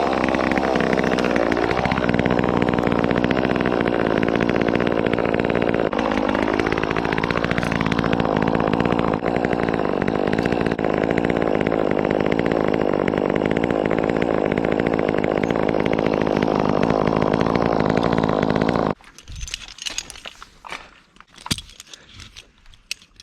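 A chainsaw, used on a precariously leaning tree, roars to life and runs loud and close, revving and settling for about nineteen seconds before cutting off abruptly, leaving scattered clunks and handling noises.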